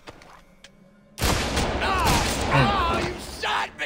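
A gunshot in Splinter Cell: Conviction lands as a sudden loud crack that breaks a quiet stretch, followed by a dense burst of noise with excited voices shouting over it.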